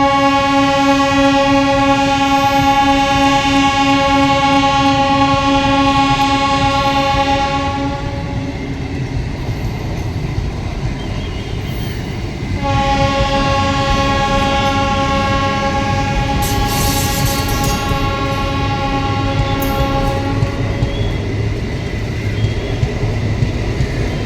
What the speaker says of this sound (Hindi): तो मेमू ट्रेन देखिए जा रही है